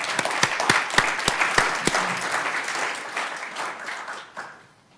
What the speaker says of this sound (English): At this point, clapping is in order, or applause.